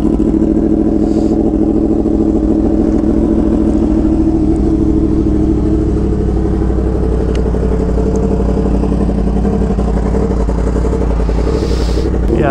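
Yamaha R1M sport motorcycle engine running at a beach supercar meet, a loud, steady idle with rough mechanical rumble, close and continuous throughout.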